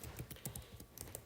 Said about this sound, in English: Then in here, I'm gonna type color photo.